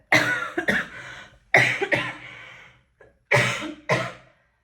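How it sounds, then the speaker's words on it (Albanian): Several harsh coughs come in quick pairs and bursts, loud and close, with short pauses of silence between the fits. "Po mbushim muaj me kollën dhe s'po na ikën"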